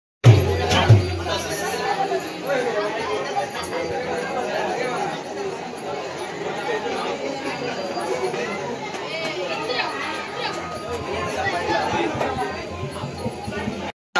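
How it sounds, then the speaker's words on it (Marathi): Crowd of villagers gathering outdoors in Konkan for a traditional Dashavatar folk drama performance, a steady murmur of many voices and chatter at moderate distance, continuous throughout with scattered nearer exclamations. "आता गर्दी भरायला सुरू झाली आहे"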